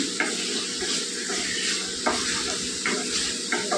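Ridge gourd fry with plenty of garlic stirred in a pan, steady sizzling throughout with a few sharp scrapes of a spoon against the pan.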